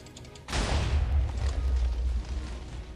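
A cannon shot strikes a pirate ship in a video game, landing as a sudden heavy boom that swells into a long, deep rumbling roar, loud and close.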